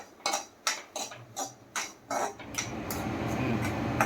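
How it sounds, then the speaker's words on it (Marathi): Semolina roasting in ghee in a pan while a spoon stirs it: a series of sharp metallic scrapes and clinks, then a steady close sizzle with no talking. "मस्त लाल लालसर रवा भाजून घ्यायचा तुपामध्ये"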